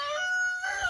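On a flower farm, a rooster gives a short, nearby crow just under a second long that shifts pitch partway through, heard alone without talk.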